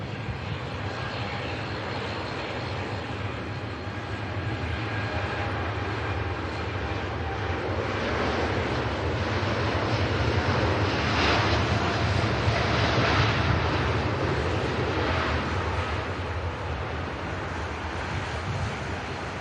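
A heavy Gulf Air Boeing 787 Dreamliner at Manchester Airport gives a steady, broad engine roar that swells through the middle and stays loud throughout, mixed with wind noise and no talking.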